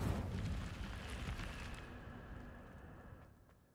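Incendio fire spell cast in Hogwarts Legacy, a roaring whoosh of flame that starts loud and slowly fades over several seconds.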